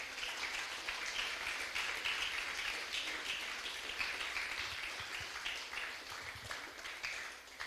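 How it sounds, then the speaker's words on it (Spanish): A church congregation gives sustained applause to the Lord, a dense rain-like patter of many hands clapping that holds steady for several seconds and eases slightly at the end, with no talking over it. "Den un fuerte aplauso al Señor"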